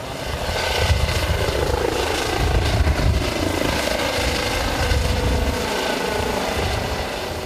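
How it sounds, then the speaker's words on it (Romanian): A helicopter's steady low rotor thrum and engine roar, continuous and fairly loud throughout, with no voices. "Bărbatul a fost dus cu un elicopter la spitalul Floreasca."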